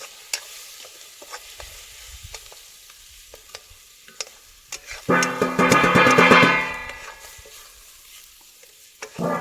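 Spices and paneer curry are stirred in a pan with soft scraping and sizzling, swelling into a louder burst of frying and stirring midway before settling back to quiet clinks.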